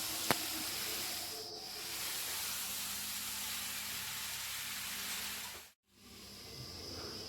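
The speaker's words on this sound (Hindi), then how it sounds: "कद्दू को हम लगभग 10 मिनट तक बहुत अच्छे से भूनने वाले हैं" Pumpkin pieces frying in a pan for a curd pumpkin curry, a steady loud hiss of sizzling oil running almost unbroken, with one brief drop to near silence late on.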